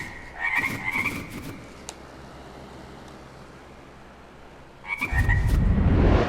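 Frogs croak in the VR game Waltz of the Wizard, short bursts of chirpy croaking at the start and again near the end, separated by a quiet, steady low hum.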